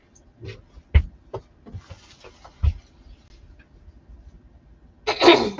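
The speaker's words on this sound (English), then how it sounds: "I keep clearing my throat" A person with allergies clearing their throat several times in short, rough bursts, ending with a louder, harsher one.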